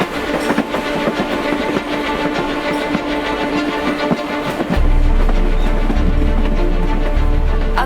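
A local commuter train in Mumbai running from Mira Road toward Virar, with steady rolling rumble and rail clatter throughout, turning louder and deeper with heavy low-end noise in the second half as the carriage speeds along.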